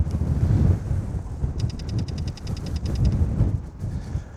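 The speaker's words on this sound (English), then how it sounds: "The wind's really picking up here" Strong wind gusting across a cold open landscape, loud buffeting rumble against the microphone that swells and eases in waves, with a faint metallic rattling in the middle.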